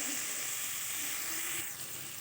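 Spices fry in hot oil with salt and turmeric. Constant bright sizzling runs close and even for a couple of seconds, with no voices.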